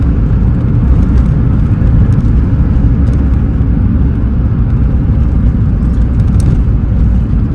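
Inside a Suzuki Swift VVTS GLX fitted with large aftermarket alloys and low-profile tyres on a test drive over slippery wet roads, a steady, loud low-frequency rumble of engine and road noise continues without a break.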